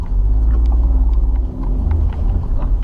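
A car rolls over rutted pavement on a street in Kraków, deep rumbling road noise with uneven thumps and a brief dip midway, close and loud inside the cabin.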